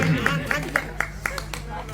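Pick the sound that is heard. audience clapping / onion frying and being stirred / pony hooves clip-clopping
audience clapping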